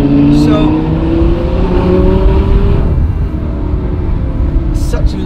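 An Audi R8 engine drones loudly with a low, sustained note and rising harmonics as it pulls through long gearing, fading slightly near the end while someone speaks briefly.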